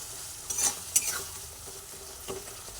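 Fried pointed gourds (potol) stirred in a pan with a spatula, soft sizzling under a few distinct scraping strokes near the start and one more later, with no talking.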